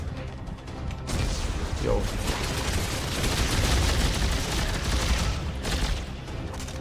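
Sustained gunfire from the video game Dead Space 3, a dense continuous barrage of rapid shots and crashing impacts lasting several seconds, with a brief spoken word near the start.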